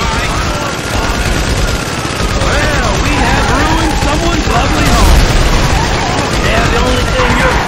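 Gunfire from a shootout in the video game GTA 5 crackles as a dense, continuous volley throughout, with a voice talking over it the whole time.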